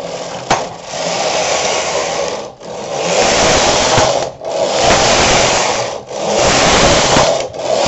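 Silver Reed SK 280 knitting machine carriage sliding across rows of waste yarn, a loud whirring, clattering mechanical run repeated in four sweeps separated by brief pauses, close up with no talking.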